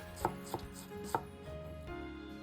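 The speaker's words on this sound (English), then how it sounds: "I fold it like this and cut the cabbage against the fibers" A knife chops through folded cabbage on a cutting board, slicing it thinly against the fibers for cabbage cutlets: three crisp, close strikes at uneven intervals, then a softer thud, with no talking.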